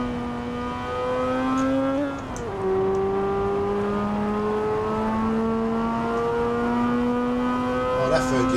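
Engine note of a car in the racing game Assetto Corsa on the Nordschleife, pulling through long gears: a steady, loud whine climbing slowly, a shift near two seconds dropping the pitch, then a long rising drone, with speech faintly present.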